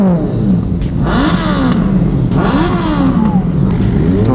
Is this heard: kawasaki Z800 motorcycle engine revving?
yes